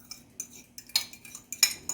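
A spoon stirring carrot cake batter with pineapple in a bowl, giving a steady series of close clinks and scrapes against the bowl's sides, roughly three or four strokes per second in a quiet room.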